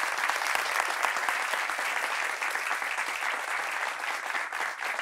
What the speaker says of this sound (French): avec vos applaudissements, de nous permettre d'accueillir ici madame Pouan-Odile